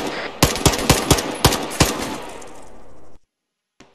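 Artillery fire mission in an Arma military video game: a rapid series of about eight loud, booming shots in a steady rhythm, trailing off into a rolling echo before silence.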